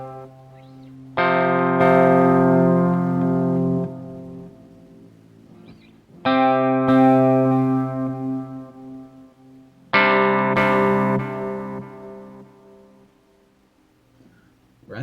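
Three sustained notes or chords sound through a Meteoric Effects Gravity Well delay pedal, each struck loudly and then ringing out in a long, fading tail of repeats before the next one starts.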